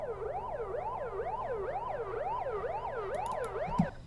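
A wailing siren effect in a house dance track sweeps up and down in a fast, regular cycle, repeating about eight times before cutting off with a short thump at the end.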